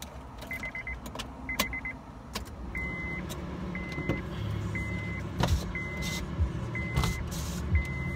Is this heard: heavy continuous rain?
no